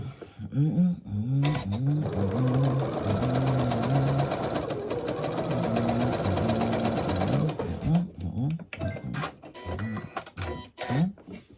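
Sewing machine stitching two fabric pieces of a poinsettia runner together, a loud, close, steady mechanical whir that speeds up and slows down, stopping and starting in short bursts toward the end.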